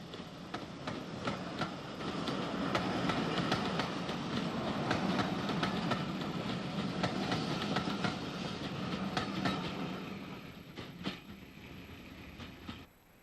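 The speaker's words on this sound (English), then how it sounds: "B2 Class 460, number 407, approaches Amiens Street with the 1:15 departure from Cork" A GNR B2 Class 460 steam locomotive, number 407, draws into Amiens Street station with a 1950s train from Cork, heard as steady rumbling wheels with rhythmic clickety-clack and a few sharp clanks as it nears.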